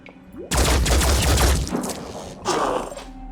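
A loud, close burst of gunfire in the tactical game Phoenix Point, a dense rattling volley lasting about a second, then a second, shorter burst.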